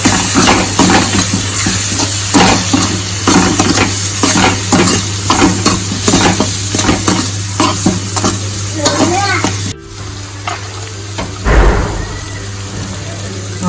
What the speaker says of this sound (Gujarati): બે ટેબલ સ્પૂન જેટલો ધાણા જીરું પાવડર એડ કરીશું હાફ ટેબલ સ્પૂન હિંગ એડ કરીશું અને બધું જ મિક્સ કરી લેશું